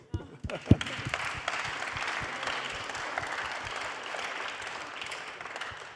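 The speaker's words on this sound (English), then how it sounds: "maybe we can applaud them" An audience at a hackathon wrap-up session breaks into steady applause that begins with a few sharp claps and swells into an even, moderately loud round.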